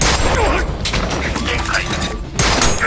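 Sharp pistol shots in an anime battle strike a character's armor, bangs and mechanical clanks erupting over dense action sound effects, several shots fired close together.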